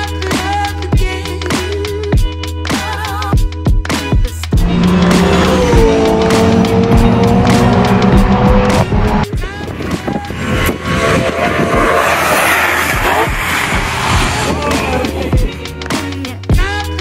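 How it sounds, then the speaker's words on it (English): An S65-powered BMW E30 M3 runs on a dyno, idling unevenly before surging into a loud, sustained high rev, then dropping back to rough, popping idle. "give it a quick run on the dyno after fitting the AMPDM dash and the Level Motorsport complete wiring loom"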